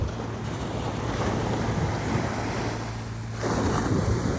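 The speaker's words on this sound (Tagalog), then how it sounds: "Ayun yung tubig, hinahabol ka ng tubig o." Sea waves wash onto a beach in a steady broadband roar, with constant wind noise on the microphone and a surge rising after a few seconds as more water rolls in.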